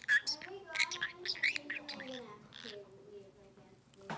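A green cheek conure chatters in rapid gibberish, mixing sharp chirps and squawks with warbling, voice-like babble, close and fairly loud, while a person speaks softly.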